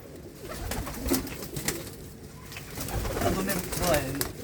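A Jira pigeon coos in low, soft repeated phrases, with intermittent clicks and scraping nearby and people talking in the background.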